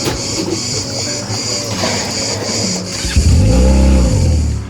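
A bus on a bumpy road to the boat in Crete hums and rumbles loudly, its engine tone rising and falling as it changes speed near the end, with no talking.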